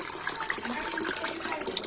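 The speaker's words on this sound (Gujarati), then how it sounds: "એને બહુ પાણી ભરવું ગમે" Water running from a tap into a bucket, a continuous splashing gush with bright droplet spatter at close range, moderately loud and steady.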